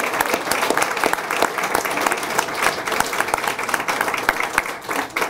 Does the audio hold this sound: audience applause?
yes